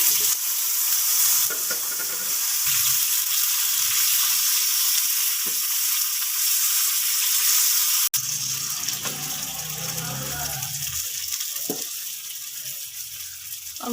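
Chopped fresh tomatoes for pizza sauce hit a hot pan and sizzle loudly and steadily, with a sharper burst of frying partway through as they settle and are stirred.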